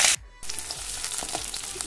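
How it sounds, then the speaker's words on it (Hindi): Masala paste for a prawn curry frying in a pan, a steady sizzle that cuts out briefly near the start, then resumes with light crackles. "अभी इसको धीरे धीरे फ्राई करते जाएंगे"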